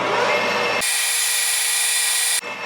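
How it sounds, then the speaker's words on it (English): A letter B (0.239 in) drill bit bores into brass for a custom fuel distribution tee for Mikuni RS carburetors, a loud, steady, close cutting whine that holds evenly, then cuts off abruptly. "This is a 239 thou drill bit or a letter B drill bit."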